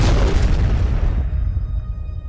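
A deep, powerful explosion from the World War I battlefield film War Horse booms loudly, then its rumble trails off into a fading low roar.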